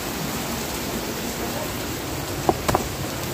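Rain falls steadily on potted plants set outside, a constant close hiss of droplets with a couple of faint knocks near the end.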